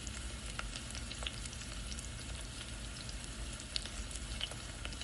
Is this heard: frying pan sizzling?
yes